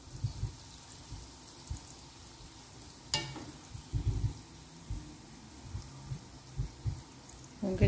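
Cheese balls deep-fry in hot oil, a soft, low sizzle broken by irregular bubbling bursts and a few dull knocks, fairly quiet and close.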